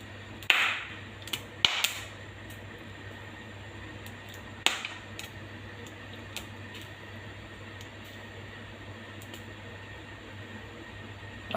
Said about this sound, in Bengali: পপকর্ন ঠাস ঠাস করে শব্দ করছে আর ফুটছে